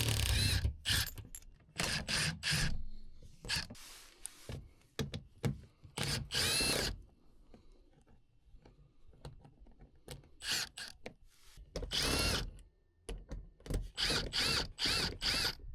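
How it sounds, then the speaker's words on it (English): An impact gun spins off 10mm bolts on a Tesla Model Y: a series of loud, close, buzzing mechanical bursts, each a second or so long, separated by short quiet gaps. "We're just going to take our impact gun and unbolt all of these."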